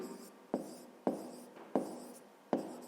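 A pen writes on paper by hand, close and quiet, with four crisp taps as each stroke starts. Each tap is followed by a soft, fading scratch.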